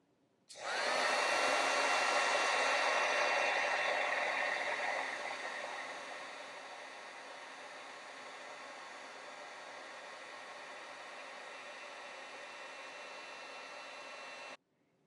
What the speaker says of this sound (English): Now with my heat tool, I'm going to carefully heat this without blowing away any of my little pieces.